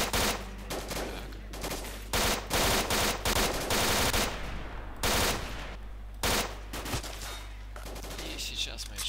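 Gunfire in S.T.A.L.K.E.R., with rapid automatic bursts and single shots cracking in uneven clusters over a low steady drone, loud and close, pausing briefly between volleys.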